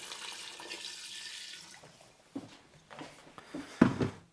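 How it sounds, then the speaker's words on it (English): Water running from a tap into a pot of carnitas meat with softened onions, chilies and a stock cube, a soft steady pour with a few clunks and splashes toward the end. "Add enough water to mostly submerge the meat."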